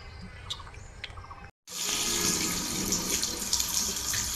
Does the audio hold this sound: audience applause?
no